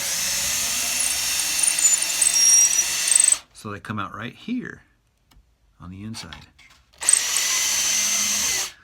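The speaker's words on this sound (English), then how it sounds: "so I just kind of drill at an angle" A power drill whirs steadily, drilling at an angle into a wooden cigar box for a guitar build, then stops while someone speaks briefly, before the drill starts up again.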